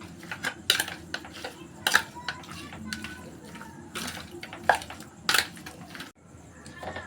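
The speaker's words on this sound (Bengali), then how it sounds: "আদা রসুন বাটা দিয়ে দিলাম, দিয়ে এটা মেখে নেব।" Wet squelching and scraping as ginger garlic paste and sour yogurt are kneaded into food by hand, with irregular soft bursts and occasional clinks of a dish, close by and fairly quiet.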